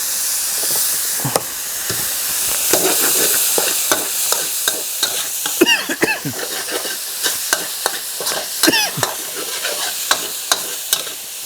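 Minced pork stir-fries in a hot pan with seasoning, oyster sauce and sugar, a loud hiss broken by frequent sharp spatula scrapes and clacks.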